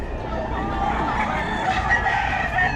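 Several roosters crow, overlapping one another, at a busy chicken market in Bocaue. The calls are close and loud and fill the space continuously, with faint voices in the background.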